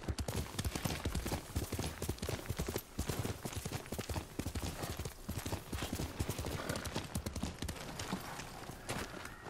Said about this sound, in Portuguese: Chamar o cavalo, ele magicamente aparece, né?